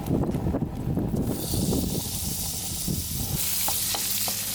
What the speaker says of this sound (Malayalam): ഈ ബീഫ് നമ്മൾ ഇവിടെ ആഡ് ചെയ്ത് കൊടുക്കാൻ പോവുകയാണ്